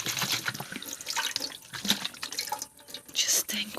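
Water is poured and splashed into rabbit drinkers up close, with irregular gurgling bursts and trickles that stop and start.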